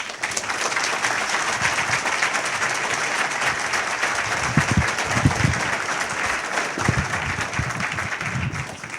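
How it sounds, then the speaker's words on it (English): Audience at a live lecture gives a loud, sustained round of applause, a thick wash of many hands clapping at once that swells slightly midway and continues without a break. "a very loud round of applause to a very powerful man, Dr. Stephen Greer"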